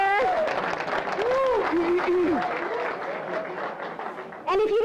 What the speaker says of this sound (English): could you give Dan a round of applause for just coming up here?